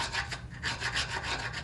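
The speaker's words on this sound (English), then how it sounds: "Scratch it up a little bit" Rough rasping and scraping across a wood surface being distressed for a craft project, rhythmic repeated strokes close up, continuous and fairly loud with no talk.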